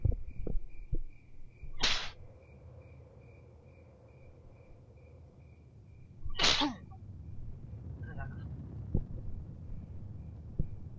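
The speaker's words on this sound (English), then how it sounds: "sorry about that, had the sneezes" Two sharp sneezes several seconds apart, loud and close, with quiet background hum and faint clicks in between.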